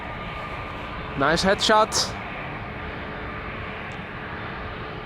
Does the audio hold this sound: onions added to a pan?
no